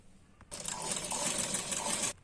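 An electric sewing machine stitches blouse fabric in one quick, close burst of about a second and a half, a steady whirring run with a soft start and an abrupt stop.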